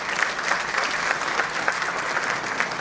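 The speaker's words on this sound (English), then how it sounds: "Can we begin this morning with a huge round of applause," Sustained audience applause at a Datacenter and Cloud Infrastructure Summit in Mumbai. Many hands clap together in a steady, dense wash with a faint pulsing rhythm, and no voices rise above it.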